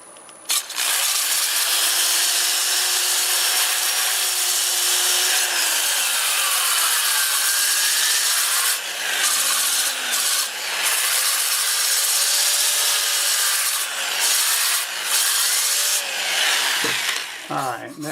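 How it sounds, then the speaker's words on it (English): Sandpaper, starting at 80 grit, rubs against a black walnut turning spinning forward on a lathe at about 400 RPM, a steady, close hissing whoosh with a faint motor whine, broken by a few brief pauses between passes. "so I'll start with 80 grit and I'll sand to 400"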